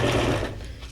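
A sewing machine stitches paper junk journal ephemera, whirring in a fast, close mechanical buzz that trails off near the end.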